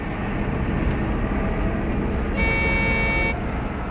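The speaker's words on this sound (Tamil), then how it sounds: "ஹார்ன் வேற அடிக்கிறான்." Over a steady engine rumble, a truck horn in a forest sounds one loud, sustained blast lasting about a second.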